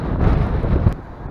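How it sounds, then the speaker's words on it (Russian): Strong wind buffeting a microphone outdoors in the VNIISSOK village settlement, a loud continuous low roar and rumble that eases slightly near the end, with no talk. "Ужасный ветер."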